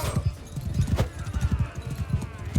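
Horse hooves clip-clopping in the medieval combat game Mount & Blade 2: Bannerlord, a steady rhythmic run of low thuds with a brief whinny, loud and close throughout.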